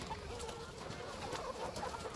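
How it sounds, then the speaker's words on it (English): Chickens roosting in a trailer give soft, close clucks and murmurs over a low steady background hum, with no talking. "And there's quite a lot of chickens in there."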